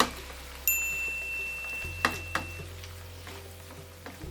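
Cauliflower cooking in a covered pan, a soft steady sizzle with a few sharp metallic clinks of a lid or spatula, heard close with no voices.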